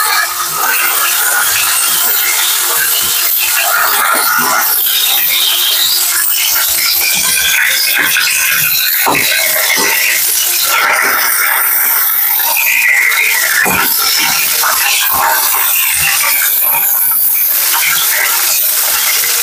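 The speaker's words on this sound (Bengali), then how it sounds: "পটলগুলো একটু ভেজে নিতে হবে।" Pointed gourd (potol) frying in a pan, a loud, continuous hissing sizzle with scattered crackles and pops that keeps going without pause.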